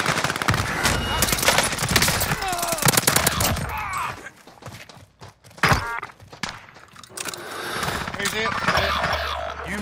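Bursts of automatic weapon fire from the shooter game Call of Duty crackle close and loud, trailing off in the middle before resuming, mixed with thuds and excited talking over the top.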